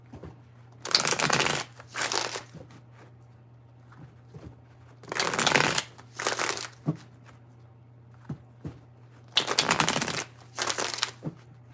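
Tarot cards are shuffled in three separate rounds, each a quick riffle in two bursts, close and crisp, with faint taps between them and a low steady hum underneath.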